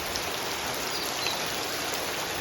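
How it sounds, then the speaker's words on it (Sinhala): Steady, dense rain falls outside without letup, an even hiss of drops on surfaces with no voices. "එළිය වැස්ස මේ විදිහම තමයි එළි වෙනකම්ම වහිනවා"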